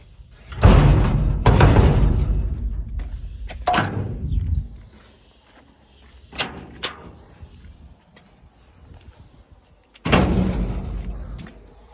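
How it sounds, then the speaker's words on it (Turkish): Door closed on a farm vehicle before setting out to a field, a few heavy thumps and slams close by, with quieter clunks between them. "Şimdi kapıyı kapatıp yola çıkacağım."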